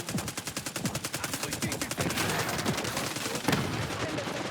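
Rapid automatic gunfire from a multiplayer shooter video game, loud and continuous bursts of repeated shots filling the whole stretch with no talk over it.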